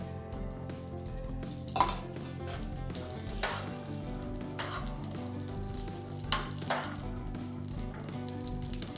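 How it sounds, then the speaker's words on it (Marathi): Roasted coconut slices sizzle in a pan as ghee is added, a steady frying crackle broken by occasional clinks of a utensil against the pan during stirring. "हे थोडेसे भाजले गेले आता मी त्यावर थोडंसं तूप घालून घेते"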